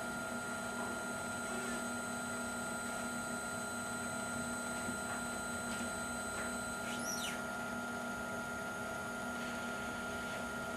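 Small electric motor running steadily under a 12-volt torque test with a 5-amp current limit, a constant whine with fixed tones throughout, one brief rising squeal partway through, no voices.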